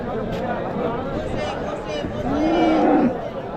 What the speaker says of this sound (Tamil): இங்கே ஒரு ஹெச்எஃப் மாடு நல்லா பெரிய சைஸில் இருக்குது பாருங்கள்